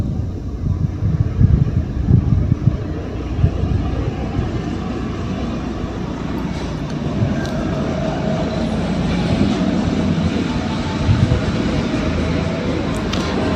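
A sewing machine stitches blouse fabric with a steady, close mechanical drone and a fine rapid clatter, running continuously with small surges in speed.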